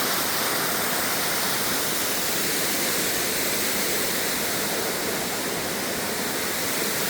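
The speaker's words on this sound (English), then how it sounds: "This is the waterfall." A forest waterfall roars in a steady, dense broadband rush, loud and continuous throughout with no voices over it.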